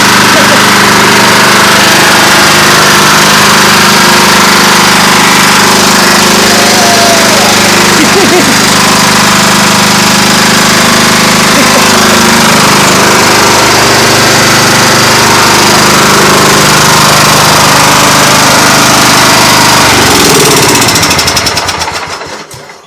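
A small gasoline engine roars loud and close once the choke is cut, a harsh, steady rattling drone that runs without a break before cutting off abruptly at the end.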